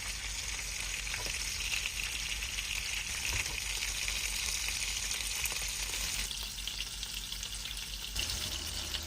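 Shrimp searing in a hot pan, a dense steady sizzle and crackle of frying that runs continuously, close and fairly loud, with a slight shift in tone toward the end.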